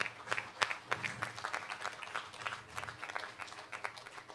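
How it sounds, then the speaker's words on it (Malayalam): A competition audience applauds a singer who has won second prize in the super senior category at a regional singing contest in Mumbai. The clapping is faint and distant, with scattered individual claps in an uneven patter. "ഒരു നിറഞ്ഞ കൈയടി"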